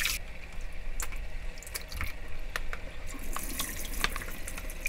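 Oysters for oyster pancakes are rinsed under a running kitchen tap, a steady close stream of water splashing into a sink with occasional light clinks and drips.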